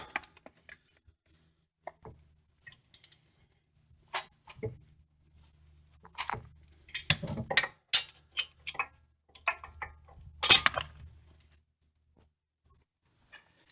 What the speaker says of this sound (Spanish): entonces sí podemos apretar ya con fuerza ambos tornillos